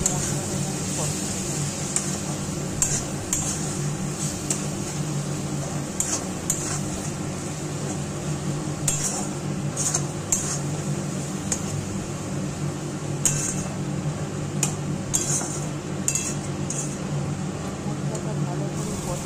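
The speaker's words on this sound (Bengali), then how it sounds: "ভালো করে এবার মশলাটাকে আমি কষাবো" Ground spice masala of chili, coriander, cumin and turmeric is stir-fried in a pan, giving a continuous sizzling hiss with occasional scraping and clinks, while a person talks throughout.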